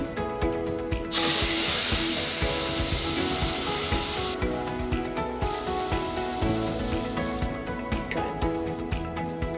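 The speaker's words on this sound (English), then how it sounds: "So I'm going to add my blended mixture into the oil." A blended pilau spice mixture hits hot oil for beef pilau, bursting into loud hissing sizzle in two long surges over a steady tonal background, with quieter gaps between them.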